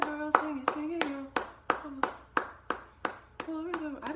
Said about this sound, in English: I think I should clap the whole time.